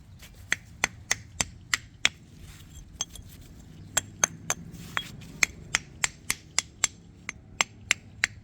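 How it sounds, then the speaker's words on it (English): Sharp metallic hammer strikes ring out knocking rust off a body mount on a 1997 Chevy K1500, a quick, mostly regular series of about two dozen blows, close and crisp with brief pauses between bursts. "So now flip the hammer and hit it"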